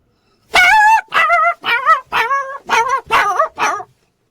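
A person imitates a puppy whimpering and yipping: seven loud, close, pitch-bending yelps in quick succession, each short and wavering, with no other sound around them.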